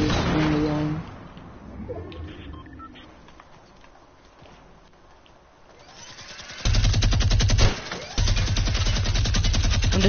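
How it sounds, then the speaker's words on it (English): Rapid sustained minigun fire in a shooter video game, loud and dense in the last few seconds with a brief gap, following quieter game sounds and building noise. "That bro, he's using his minigun."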